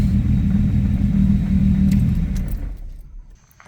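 A Pontiac Grand Prix fitted with a junkyard engine and a bigger turbo idles with a loud, close, slightly uneven rumble from a mild misfire, then shuts off, leaving a few faint clicks.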